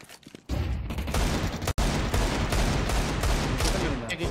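Sustained gunfire in the video game Counter-Strike, a dense rattle of rapid shots starting abruptly and continuing for several seconds, loud and close, with one brief gap partway through and no speech over it.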